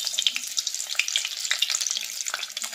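Cheese and potato snack balls drop into hot refined oil and fry with a busy, close crackle and popping sizzle that rises and falls in small bursts, with no talking.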